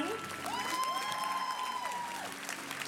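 An audience at a concert in Kuala Lumpur applauds and cheers in a steady, moderately distant wash of sound, with a sustained whistle or whoop rising over the crowd.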